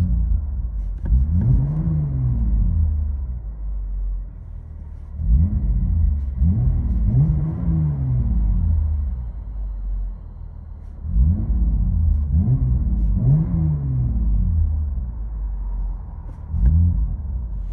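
Inside a 2023 Jeep Grand Cherokee with a 3.6L engine, a deep engine rumble and exhaust drone swell in repeated revving bursts, then settle back to a low idle between them.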